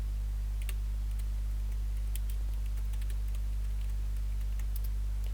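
Someone types a search on a computer keyboard, producing sparse, light key clicks in irregular bursts over a steady low electrical hum.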